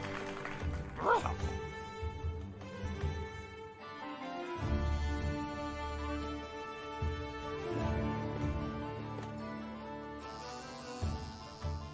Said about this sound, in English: Summoning a second dog.